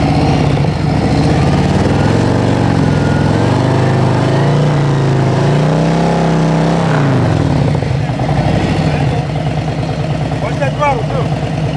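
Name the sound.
Harley Davidson Road Glide motorcycle engine at slow speed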